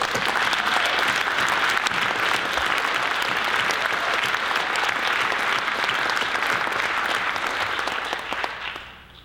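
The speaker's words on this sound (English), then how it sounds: "All of you deserve a warm round of applause" Warm, sustained applause from the audience at a 2018 annual meeting on alternatives to factory farms, a dense steady wash of many hands clapping for about eight seconds before tapering off at the end.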